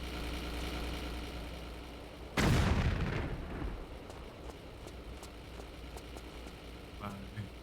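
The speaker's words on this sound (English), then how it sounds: "I'm gonna go shoot this guy in the back" A gunshot in Tomb Raider: The Last Revelation bursts out as a single loud blast with a ringing decay, set against a steady low background hum.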